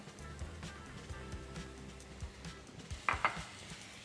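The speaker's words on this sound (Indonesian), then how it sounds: "Kita matengin jamurnya sebentar. Dan sedikit minyak." Mushrooms fry with a little oil in a pan, a soft close sizzle mixed with stirring, utensil taps and a couple of sharp metallic clinks near the end.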